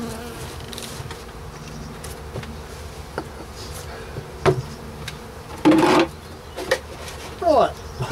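Honeybees buzz steadily around an open hive during an early-spring March inspection. The hum stays close and continuous, with a few louder passes of single bees near the microphone and occasional knocks from the hive frames.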